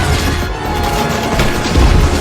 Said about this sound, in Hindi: उसके बाद जॉन ने फिर से जोडंगा के तीन शॉट्स का निर्वहन करने के लिए फिर से कार्रवाई की।